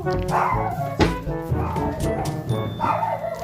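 A dog barks outdoors in a few sharp, close yips and woofs over roughly three seconds, with people's voices and footsteps faintly mixed in.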